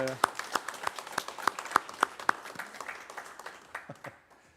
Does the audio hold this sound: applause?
yes